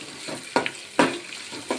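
Tempering spices sputtering in well-heated oil for a cucumber and sesame chutney, a close crackling sizzle punctuated by three or four brisk scraping stirs in the pan.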